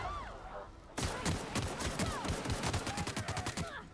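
Rapid assault rifle bursts crackle in the sci-fi game The Outer Worlds, a string of sharp, fairly close shots in an uneven rhythm, with faint voices in the background.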